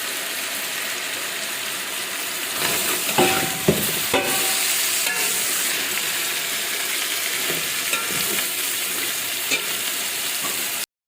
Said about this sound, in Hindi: अब हम इसके अंदर टमाटर और हरी मिर्चें डालते हैं और इसको भून